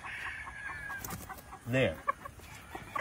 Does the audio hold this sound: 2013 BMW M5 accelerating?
no